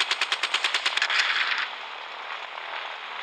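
A machine gun fires in the Gunship Battle video game as a rapid burst of about a dozen evenly spaced sharp shots, ending in a short rushing sound and then a steady background hiss.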